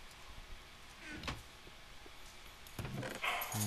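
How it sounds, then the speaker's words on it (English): A pet dog growling at a cat indoors: low, rumbling growls with a few sharper bark-like bursts, moderately faint and near, with no talking. "my dog apparently really wants to play with the cat. Her idea of playing with the cat is to growl at it constantly."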